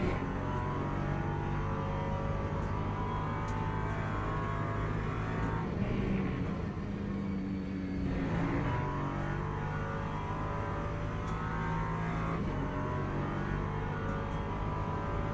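A race car engine in the Le Mans Ultimate sim game drones steadily at speed, with revs rising and falling around corners and tire and wind noise under the engine note throughout.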